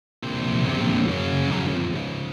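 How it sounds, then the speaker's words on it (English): Dense, saturated electric guitar chords through a three-channel high-gain amplifier, heavily distorted, loud and sustained with a buzzing, fuzzy edge throughout. "This is a 3-channel, very high gain amplifier."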